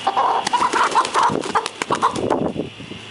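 Chickens cluck close by in a busy series of short, repeated calls, with some scratchy shuffling noises mixed in.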